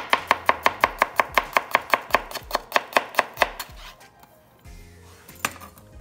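A knife slices garlic on a cutting board in a rapid, even run of about sixteen crisp chops, then stops, leaving only faint clatter and one last tap.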